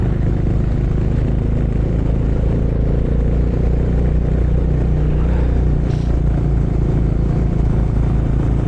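Motorcycle riding on a smooth mountain road in the Kalimpong hills, a loud steady engine drone with continuous low rumble and road and wind noise throughout, no voices.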